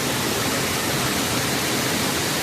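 Waterfall in Pennsylvania, heard as a steady, dense broadband roar of falling water. The rush stays loud and even throughout, with no voices over it.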